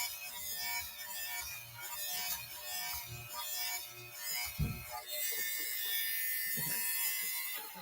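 Electric fabric shaver buzzing steadily over pilled knitted stocking-stitch fabric, a continuous close whirring hum with rubbing texture and a brief thump near the middle, no talking.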